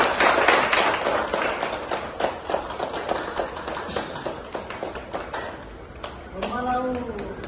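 Loud applause from a crowd at an achievers celebration in Goa, dense rapid clapping filling the room, with a voice rising briefly near the end.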